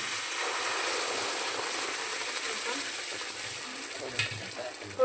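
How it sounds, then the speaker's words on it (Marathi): Boiling water poured into a hot pan of semolina gives a steady, close hiss and sizzle with a few small splashes and clinks near the end. "आता पाणी ओतून घ्यायचं। उकळी आलेलं पाणी आहे, उडतं थोडंसं।"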